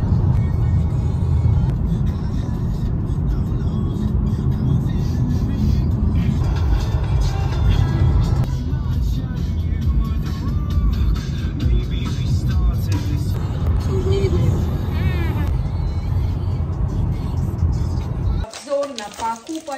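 Steady interior road noise from a car driving home, a constant low rumble that holds for most of the stretch and then cuts off sharply near the end.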